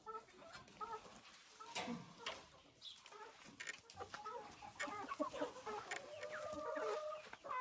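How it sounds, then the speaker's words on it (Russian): Hens, including a crested dominant hen, clucking in a poultry enclosure, with irregular close clucks and squawks scattered throughout and a voice speaking softly at times. "Вот эта курочка."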